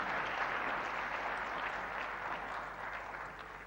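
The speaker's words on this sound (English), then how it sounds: "Please give them a round of applause" An audience at an international summit applauds a panel featuring President Macron. The clapping is a steady, dense wash that tapers slightly at the end, with no talk over it.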